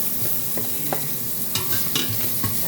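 Onions frying in a pan for sinigang are stirred steadily, a close, continuous sizzle broken by sharp scrapes and clacks of the spoon against the pan.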